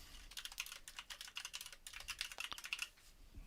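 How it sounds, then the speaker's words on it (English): Fast, light keystrokes on a computer keyboard as an email is typed, a quiet run of irregular clicks with a brief pause midway, no voices. "so I'll just type my email content in here"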